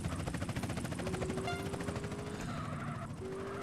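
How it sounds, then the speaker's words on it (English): A police helicopter in GTA San Andreas thrums with a rapid, pulsing rotor chop at moderate distance, steady and fairly quiet, joined by a thin sustained tone partway through and no speech. "I don't like the sound of a helicopter."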